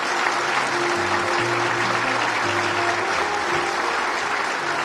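Sustained, thunderous applause from a large crowd at a commemoration in Štip for residents killed in a fire, dense and steady for the whole stretch, with a faint low tone underneath.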